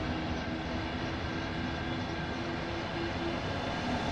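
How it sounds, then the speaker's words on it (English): Runaway freight train in the Train Sim World 2 video game, on the Dresden to Röderau route, a loud steady rolling rumble with faint tonal whines, continuous and close. "Wow, we're on a runaway train."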